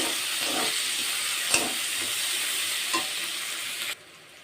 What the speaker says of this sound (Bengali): তো পেঁয়াজটা আমার লাল লাল করে ভাজা হয়ে গেছে